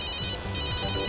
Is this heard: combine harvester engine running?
no